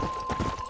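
Hooves of a donkey or old nag clip-clopping in the video game Red Dead Redemption, a quick run of close, even hoof beats with no talking.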